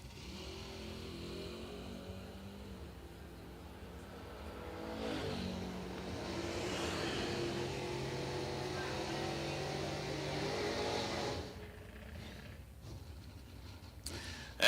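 A Chevelle drag racing car accelerates down the strip at the IHRA World Finals, a faint, distant engine roar rising and then trailing off.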